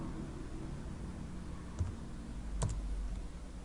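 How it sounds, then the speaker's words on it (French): Computer keyboard keys are tapped while entering a name into a Python Tkinter program, a few scattered clicks over a low room hiss, with one sharper double tap near the end. "Je tape ici le nom"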